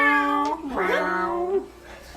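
A small creature in a video game lets out a moo-like purring call, a drawn-out tonal sound that bends in pitch over about a second and a half, close and clear.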